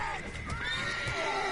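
Horse in the video game The Witcher 3 gives a single quiet, drawn-out neigh with a wavering whinny, heard fairly close against a low background.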